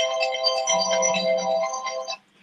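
A mobile phone ringtone rings loudly and steadily as a bright, repeating melodic tone for about two seconds, then cuts off abruptly, with no one talking over it.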